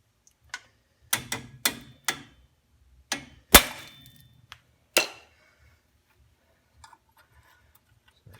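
A screwdriver works on classic car drum brake parts, giving a series of sharp metallic clicks and clinks, a few quick taps then spaced single strikes, close and otherwise quiet.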